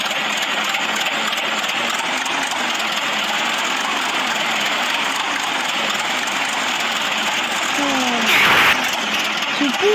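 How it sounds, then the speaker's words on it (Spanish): A car engine runs steadily in the Roblox video game, a continuous droning rumble heard close and fairly loud throughout, with a brief louder burst near the end. "Siempre tengo que prender el motor dos veces."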